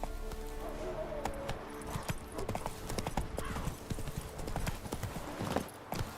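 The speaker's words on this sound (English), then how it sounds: "Come on, Roach." Hooves clip-clop steadily as a horse gallops in The Witcher 3 video game, the rhythmic beats running throughout over game ambience and music, with a brief whinny-like tone early on.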